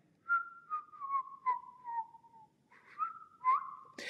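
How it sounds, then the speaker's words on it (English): A person whistles a wavering tune alone, a run of sliding, slightly falling notes that pause briefly near the middle before resuming, clear and close with no talking. "A whistle is a high-pitched noise that you make by blowing out air through your mouth"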